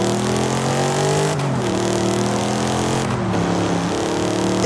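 A car engine in Forza Horizon 5 revs hard and downshifts, its steady loud drone dropping in pitch at two points before climbing again, with no talking over it.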